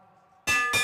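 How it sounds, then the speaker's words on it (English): A bell rings twice, loud and close, signalling the final lap of a track cycling Madison race, with a brief gap between two bright metallic strikes after quiet background. "Here comes the bell."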